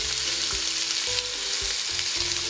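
Chicken shashlik fries in a hot pan, a loud, close, steady sizzle and crackle with repeated scraping stirs cutting through at a loose, irregular rhythm.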